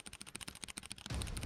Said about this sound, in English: Why do I know that's George's keyboard sound?